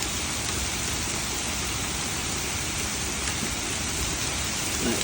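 Heavy rain falls steadily during a storm with flash flooding and high winds, a dense, even hiss close by with no distinct thunderclap.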